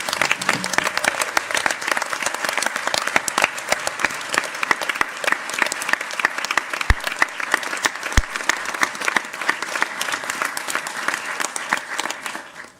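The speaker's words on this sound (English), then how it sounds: "let's have a round of applause" A long, sustained round of applause fills the room at a mayor and council swearing-in ceremony, many hands clapping densely and evenly for over twelve seconds before tapering off at the end.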